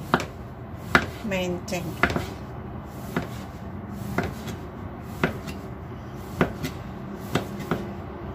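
A knife chops through young tempeh on a board in sharp, separate knocks at an uneven, unhurried pace, close and clear, with a little speech in between.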